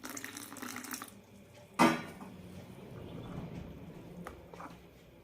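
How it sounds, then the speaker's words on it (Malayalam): Warm water is added to a loose semolina batter for palappam, with a short, sharp splash near the start followed by a softer trickle and faint kitchen clatter, no talking. "ഇതിലേക്ക് കുറച്ചുകൂടി വെള്ളം ചേർക്കാം."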